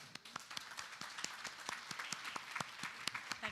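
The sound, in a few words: audience applause welcoming a speaker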